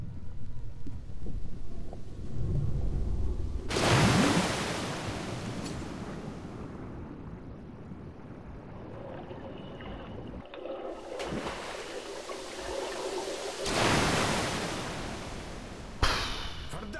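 Rushing river water in the game Metro Last Light Redux, a loud continuous roar and wash of water with surging bursts and wind-like rumble, rising and falling over the scene with no talk.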